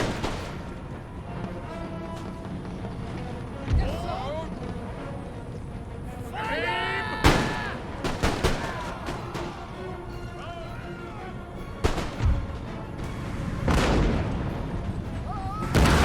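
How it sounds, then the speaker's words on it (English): Cannon artillery fire in the Empire: Total War video game, with several booming shots spread across the stretch, some sharp and near, over ongoing battle noise with a voice talking. "Those cannons are in such a good position."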